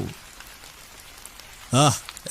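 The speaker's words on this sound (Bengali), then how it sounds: "ঝমঝমিয়ে শুরু হলো মুষলধারে বৃষ্টি।" Heavy torrential rain pours down in a steady dense hiss throughout, with a short voice heard near the end.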